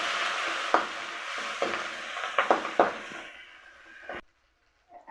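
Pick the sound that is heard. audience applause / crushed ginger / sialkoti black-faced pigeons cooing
crushed ginger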